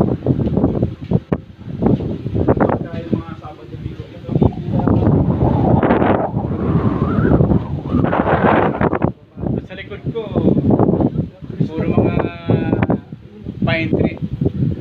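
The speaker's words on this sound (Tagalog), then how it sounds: "relaxing ang lugar eh, mahangin eh." Steady wind blows and rumbles across the microphone throughout, with a person talking over it nearly the whole time.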